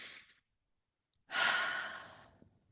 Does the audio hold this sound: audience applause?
no